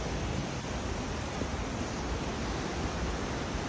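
The waterfall in Bad Säckingen, Germany, roars as a constant dense rush of water, loud and close, with no voices.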